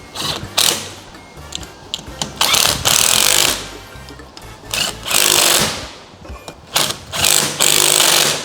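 Hex bolts being tightened on the handlebar while assembling a Segway Snarler AT6 ATV, with bursts of loud mechanical whirring and rattling separated by short pauses, close up.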